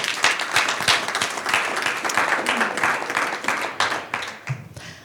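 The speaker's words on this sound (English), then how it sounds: "Let's give them a round of applause." An audience at an industry event applauds the sponsors with steady, sustained applause from a crowd. The clapping fills the room at an even level throughout, with no talk over it.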